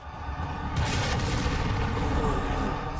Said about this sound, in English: Double rocket launchers.